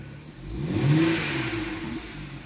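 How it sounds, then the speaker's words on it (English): A BMW engine revs up once, a steady mid-pitched car engine whir rising and easing off near the microphone, heard alone without talk. "let's see if it'll rev up"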